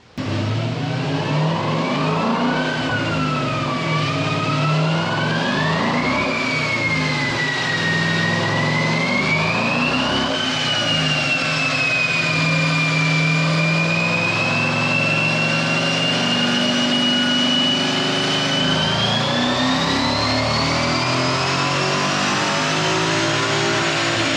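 A 2015 Ford Mustang GT V8 on a chassis dyno revs in one long, continuous pull to redline, the engine note climbing and wavering as it winds up, loud and close throughout.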